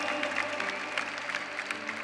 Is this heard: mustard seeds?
no